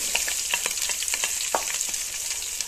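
Ginger, green chilies and curry leaves sizzle steadily in hot oil in a pan for gooseberry pickle, with faint scattered stirring ticks under the close, continuous frying hiss and no talking.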